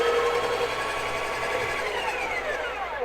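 A Breville Barista Pro grinder at grind size 7 whirs with a steady, sharp high-pitched motor whine, loud and close, holding constant with a slight drop in pitch near the end.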